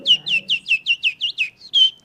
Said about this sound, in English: I think that's a robin redbreast.